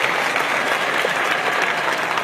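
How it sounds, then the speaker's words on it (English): Large open-air crowd at a Youth Day celebration in Poland applauds Pope Francis with steady, dense clapping that stays loud and even throughout, no speech over it. "He just got a big applause there"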